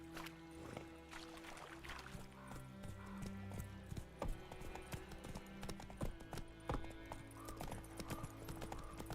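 Horse hooves gallop in Witcher 3 across a dense in-game soundscape, the steady clip-clop running the whole time under music and ambient layers at moderate loudness.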